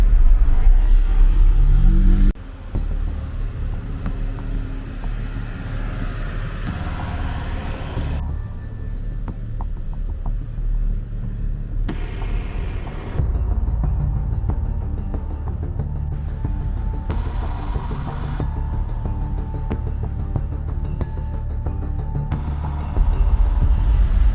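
Taxi crawling through jammed traffic on a main road in Colombia, with a steady engine rumble and road noise from inside the cab throughout and occasional revving as it creeps forward.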